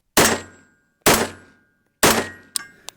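Three loud, sharp shots from a tactical rifle fired canted to the side, spaced about a second apart, each with a decaying echo, followed by two faint metallic clicks.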